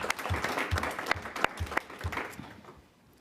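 Brief applause from an audience at a school board of education meeting, a short spatter of claps that fades out within a few seconds, fairly faint and distant.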